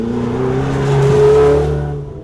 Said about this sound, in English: Let's talk about the sound of the 488.